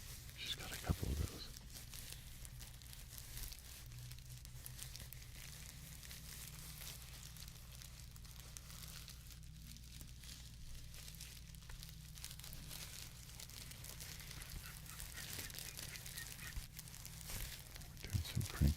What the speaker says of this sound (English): Doing some crinkling